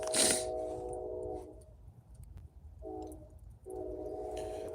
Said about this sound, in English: I like when you hear the train in the background out here too.